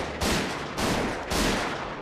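Three loud gunshots crack out in a Chinese historical costume TV drama, evenly spaced about half a second apart, each a broad explosive burst with a lingering rumbling tail, heard without speech.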